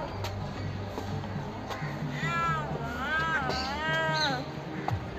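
A cat at the gate of Kaali Masjid, a mosque, gives several rising and falling meows in the middle of the stretch, fairly close, over a busy background where someone talks.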